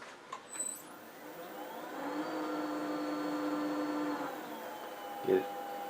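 A 1/4 inch hand drill boring into palo santo hardwood whines steadily for a couple of seconds, its pitch holding then dropping as it stops, followed by a short knock.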